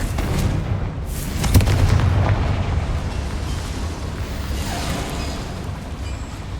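A Confringo fire spell explodes in Hogwarts Legacy inside a cramped mine, giving a dense, rumbling boom with a sharp burst near the middle over a steady roar of game ambience.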